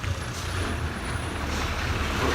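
Small bus rumbling along a road in Sri Lanka, a steady low engine drone with broadband road noise, fairly close and continuous, no voices.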